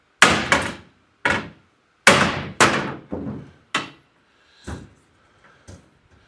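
A rubber hammer taps custom glass down into a support trough: about eight dull, close knocks in an uneven rhythm, each dying away quickly, with the last few blows softer.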